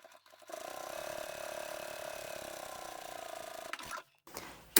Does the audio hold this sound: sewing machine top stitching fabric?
yes